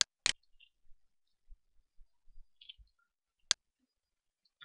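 A few sharp, isolated clicks from a computer mouse's left button, used while drawing shapes in GT Designer3 screen-design software: a close pair at the start, then a long quiet gap before a single crisp click.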